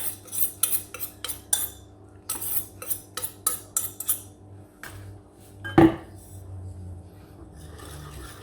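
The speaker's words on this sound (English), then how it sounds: "Give it a good stir" A spoon stirs hopper batter mixed with risen yeast in a bowl, giving a series of close, rhythmic scraping and clinking strokes, then a louder knock and a quieter stretch.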